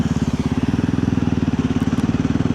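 A VOGE 300 Rally motorcycle engine running steadily with a low, even thrumming pulse and slight mechanical clatter, close and continuous throughout.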